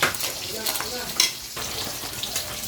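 Squash simmering in coconut milk is stirred in a pot, with a soft bubbling hiss and a few scraping strokes of the spoon, close and without talk.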